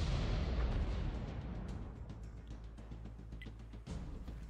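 A tank fires in World of Tanks: a deep boom opens and rumbles away slowly, then a second, softer thump follows near the end, all heard faintly at a distance.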